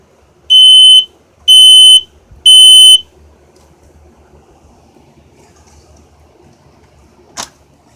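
A smoke alarm mounted on a demonstration board sounds three loud, piercing beeps in an even rhythm, followed by near silence and one short click near the end.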